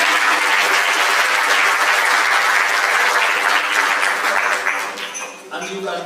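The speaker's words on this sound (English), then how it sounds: "A round of applause." An audience at a mental wellness and counselling breakfast conference applauding: sustained, loud, dense clapping that holds steady for several seconds before thinning slightly at the end, with a voice faintly audible beneath.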